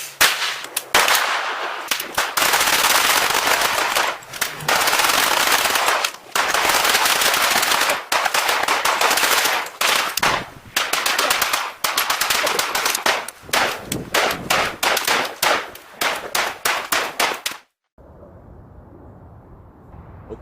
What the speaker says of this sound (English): Most of this is 9mm, but we got a few other surprises there when we're done. Weapons hot, weapons hot. Fire in the hole, fire at will.